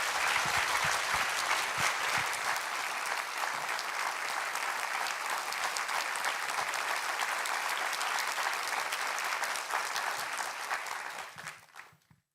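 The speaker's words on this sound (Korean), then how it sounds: "우리 선교사님 나오실 때 큰 환영과 또 감사의 박수 전해드리도록 하겠습니다" Sustained applause from a church congregation welcomes a missionary who is coming forward to preach. The clapping is dense, steady and full for about eleven seconds, then fades out quickly.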